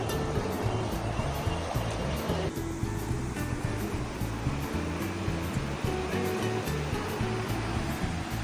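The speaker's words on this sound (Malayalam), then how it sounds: "കബനി നദിയും പനമരം പുഴയും ഒന്നിച്ച് കൂടിച്ചേരുന്ന സ്ഥലം കേട്ടോ കൂടൽക്കടവ്" Steady broadband rushing of river water where the Kabini and Panamaram rivers meet at Koodalkadavu, a constant wash with a low rumbling undertone throughout, fairly close and with no voices.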